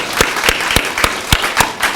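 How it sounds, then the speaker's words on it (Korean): Church congregation clapping together during a Sunday worship service, a fast regular series of sharp claps filling the room with no talk over them. "여러분 서로를 위해서 격려와 감사의 박수 한번 드리겠습니다."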